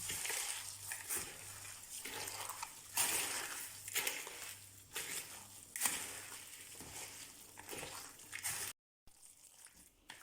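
Meat roll filling mixed with instant noodles in a bowl by hand, giving wet, squelching, crunchy stirring sounds in uneven bursts, fairly close and moderately quiet.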